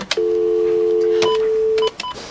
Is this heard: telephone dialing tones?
yes